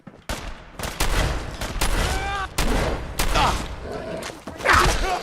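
Fallout 4 combat: repeated gunshots and heavier grenade blasts thump in quick succession, loud and close, with whooshing debris between the bangs and no clear talk.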